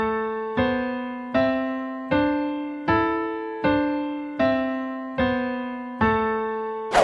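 Piano finger-independence exercise played with both hands, the right hand running a 1-3-5-3-1 pattern over a steady left hand; eight evenly spaced chord strikes ring out alone, each decaying before the next in a regular rhythm.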